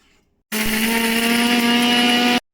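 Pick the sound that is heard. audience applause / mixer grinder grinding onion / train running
mixer grinder grinding onion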